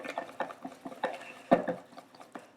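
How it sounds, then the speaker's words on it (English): Chocolate being stirred into brownie batter in a bowl, a close, quiet run of soft wet scraping and patting strokes in an uneven rhythm, with one sharper clack of the utensil against the bowl. "Let's just add the rest in now. Mix it all nice and evenly."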